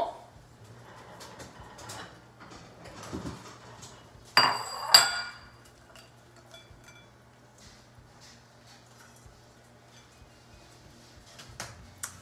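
Dishes clink faintly as roasted fiddleheads are spooned into a small bowl: scattered light ticks and taps of utensil on crockery, with two sharper clatters near the middle, over a low steady hum.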